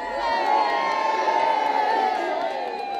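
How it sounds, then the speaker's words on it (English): Thousands of people packed along a waterfront cheer for the Queen during her Diamond Jubilee tour of the Isle of Wight, a sustained roar of shouts and whoops with high voices rising above the crowd. "Watched by thousands, the crowds filled every inch of the waterfront, craning for a glimpse of the Diamond Queen."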